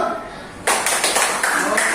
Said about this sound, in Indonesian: Oke, selanjutnya tepuk tangan dulu.